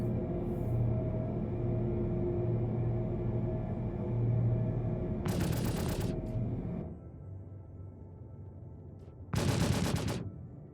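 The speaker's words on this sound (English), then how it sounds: "So there's our guns doing work" Rapid automatic spaceship cannon fire in Star Citizen from an Origin Jumpworks 400i, two dense bursts of a second or more each heard over a steady engine hum, loud and close.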